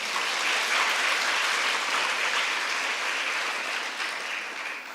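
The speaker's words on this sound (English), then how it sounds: "I think you all deserve to get a big applause for that." Sustained applause from a large crowd at a nursing college silver jubilee lamp lighting ceremony, steady and dense for the whole stretch, fading slightly at the end.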